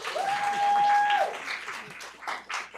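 Applause breaks out at a school board meeting, a brief burst of clapping under a sustained tone and voices, fading into scattered talk.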